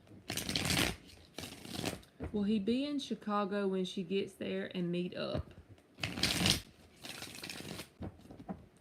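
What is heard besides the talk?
tarot cards being shuffled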